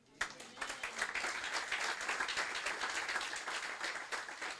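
A church congregation claps for the Lord in a quiet, steady round of applause that lasts several seconds, heard from some distance.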